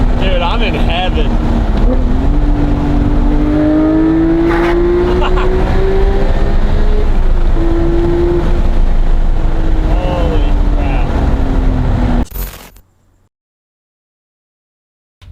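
A Hennessy Exorcist ZL1 engine drones loudly while driving, its pitch climbing and easing as it revs through gears under heavy wind rush, then cutting off abruptly into silence.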